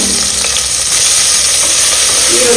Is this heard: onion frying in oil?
yes